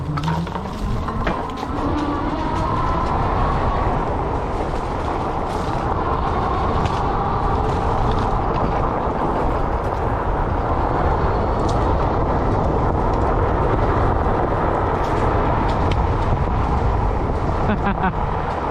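A fat-tire e-bike ridden fast over rough ground, loud continuous wind and tire rumble with rattling throughout, speech faintly mixed in.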